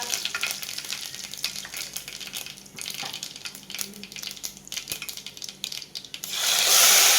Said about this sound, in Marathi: टाकू अर्धा चमचा मोहरी, थोडेसे जिरे। तेल भरपूर घ्या। कढीपत्ता,